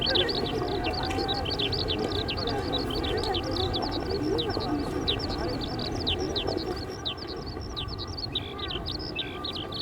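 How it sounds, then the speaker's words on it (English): Small birds such as skylarks in springtime among blossoming cherry trees in an urban setting, a dense continuous chorus of high chirps and tweets over a low background rumble, with a narrating voice throughout. "In the springtime, when the cherry trees blossom, small birds, such as skylarks, fly about the flowers."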